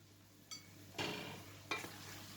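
Pasta sauce with basil being stirred in a pan, three brief scraping strokes of a utensil over a faint background sizzle, close and fairly quiet.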